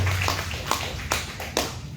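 Congregation clapping in applause during a Spanish-language church service, a few sharp claps standing out over a steady murmur of hands, moderately distant.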